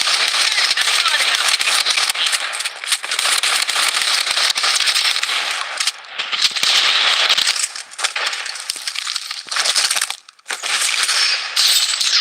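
Gunfire rattles through a Blood Strike battle royale match in long, dense crackling bursts with brief pauses between them, loud and close, alongside game voice callouts.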